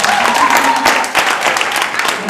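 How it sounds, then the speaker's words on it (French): Audience applause at a French spelling championship ceremony, dense and steady throughout, with a voice faintly audible beneath the clapping. "Applaudissez-les."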